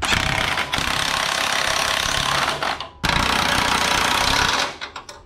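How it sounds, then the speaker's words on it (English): Impact wrench snugging bolts while installing a drop on a 3/5 IHC, two loud, close bursts of rapid rattling hammering separated by a short break, the second trailing off into a few quick taps. "I'm gonna snug all these with the impact."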